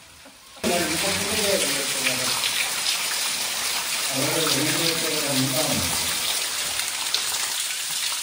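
A steady rush of falling water from a small waterfall in a park in Cox's Bazar starts abruptly and continues loud and close, with voices talking underneath it.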